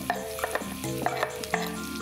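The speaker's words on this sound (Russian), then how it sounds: "Начинаем обжаривать наши продукты." Vegetables being stir-fried in a pan for an Asian-style dish, with a steady close sizzle and several sharp clinks of utensils stirring against the pan, no talk.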